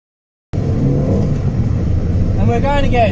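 Race car engine revving from inside the car, a loud rumbling drone with rising revs near the end after a brief silence at the start.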